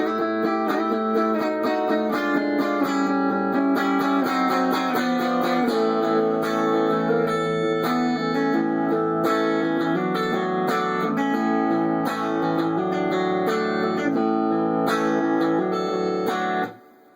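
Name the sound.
guitar playing a riff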